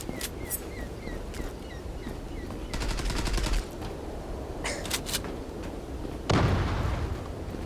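Gunfire in the online shooter Zula, including a pump shotgun, comes as a series of sharp shots and rapid bursts over game background noise, with one loud blast near the end.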